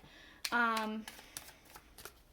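A deck of tarot cards shuffled in a quick riffle, a short crisp flutter of card edges close to the microphone, followed by a few light taps and rustles.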